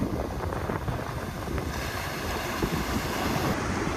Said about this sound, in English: Waves is huge, man.